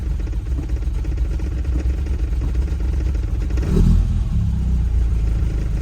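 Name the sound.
Lotus Elan engine revving during drive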